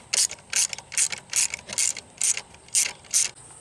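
A hand ratchet clicks in eight quick, evenly spaced bursts while backing out coil pack bolts on a Pontiac Grand Am engine during a teardown, close and crisp with no talking.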